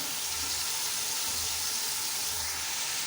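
Onions frying in a pan, letting off a steady close sizzle and hiss of hot oil that holds level with no talk over it.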